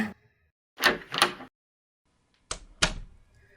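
A door shuts as a sound effect in a Thai romance audio drama, with a pair of close wooden knocks followed after a pause by two sharper latch-like clacks, no voices.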